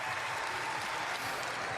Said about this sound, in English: There's a huge roar from the home crowd for Andreas Toba,